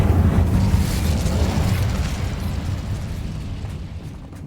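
An Incendio fire spell in Hogwarts Legacy, a loud rumbling fiery burst that starts strong and slowly fades over several seconds.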